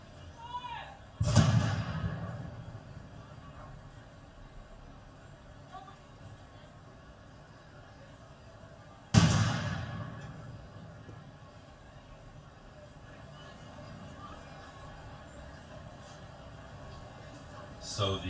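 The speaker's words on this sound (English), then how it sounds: "So the gun salute is happening, and it's been felt and heard all around this part of London" Ceremonial gun salute fired in London for the Queen's Platinum Jubilee: two loud, distant booming reports about eight seconds apart, each rolling away in a long echo over steady city background noise.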